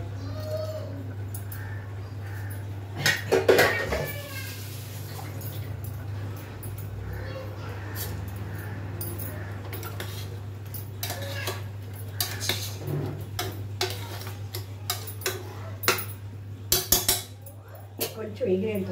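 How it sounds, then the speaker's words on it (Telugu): A mixer grinder jar, just emptied of coconut paste, is rinsed with a drop of water in a home kitchen, giving scattered clinks and clattering knocks over a steady low hum, with faint cooing birds nearby. "జార్ కడిగేసుకుందాము."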